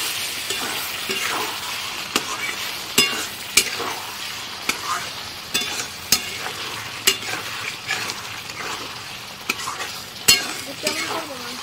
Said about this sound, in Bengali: এখানে আছে চিকেনের মশলা, এই মশলাটা দিয়ে ভালো করে কষিয়ে নিয়ে আসবো